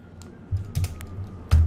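A few close clicks on a computer keyboard as code is typed, soft keystrokes spaced irregularly over a quiet room hum.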